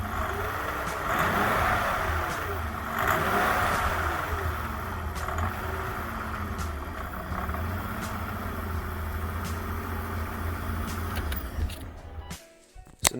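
A BMW V12 engine runs steadily after starting, with a deep, rough, diesel-like throb that holds for most of the clip before it cuts off near the end, with nobody speaking.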